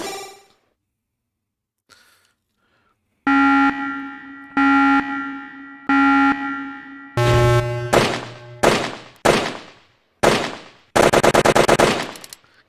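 AK rifle in a video game firing full auto: a few short separate bursts, then rapid sustained automatic fire with spent-round ringing, loud and close with no talk.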